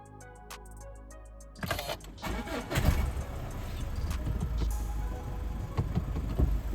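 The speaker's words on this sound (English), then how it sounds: "install the differential pressure sensor back and start the engine" A 2013-2017 Mazda CX-5 2.2 diesel cranks and fires up after DPF cleaning work, a short starter whir followed by the engine catching and settling into a rough, close idle.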